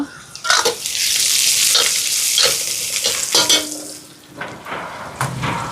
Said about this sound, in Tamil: இப்போ வெங்காயம் எல்லாம் வதங்கிட்டு பாருங்க